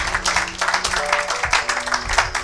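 A church congregation claps in dense, steady applause filling the whole moment, close and lively, with faint voices mixed in.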